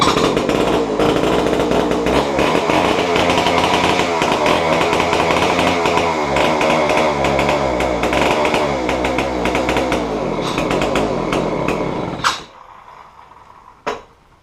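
A Homelite C-51 chainsaw engine being revived runs loud and rough for about twelve seconds, then cuts out abruptly, leaving a short quiet tail with a faint clatter.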